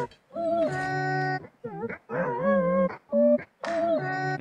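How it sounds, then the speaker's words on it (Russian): A dog in The Long Dark barks and whimpers in a series of short, tonal yelps and whines, near and fairly loud, with brief pauses between bursts. "Не слышишь, как он лает?"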